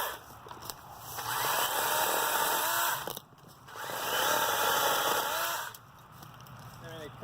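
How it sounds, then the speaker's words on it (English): Battery-powered DeWalt 20 volt chainsaw with a 14-inch bar cutting tree branches, loud whining motor bursts in two long cuts with brief idle dips between them. "It cuts, but this is definitely a homeowner chainsaw."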